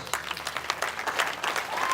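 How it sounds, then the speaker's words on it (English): Conference audience applause, a close, full burst of many hands clapping steadily at moderate loudness for about two seconds, with no one speaking over it. "I think she deserves a round of applause."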